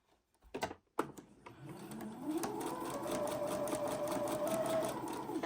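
A sewing machine with a quarter-inch foot stitches a fabric apron, starting after a couple of sharp clicks and then running in a fast, steady whirring stitch rhythm close up, with no talk.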